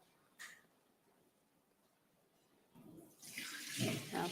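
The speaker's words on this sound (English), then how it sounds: "I'm going to drain out some water and just only use the particles under" Water from soaked corn for agidi is poured off, starting as a faint trickle after a brief knock and swelling into a loud, splashing gush near the end, with no talking.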